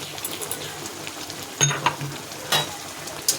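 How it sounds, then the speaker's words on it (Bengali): Turmeric, cumin paste and spices are stirred in a pan for meat with a soft sizzle underneath and a few sharp scrapes and clinks of the spoon against the pan. "এবার আমি এটা নাড়াতে থাকবো।"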